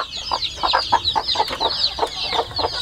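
Rhode Island Red native chickens cluck close by in a steady run of short, repeated clucks, with no talking.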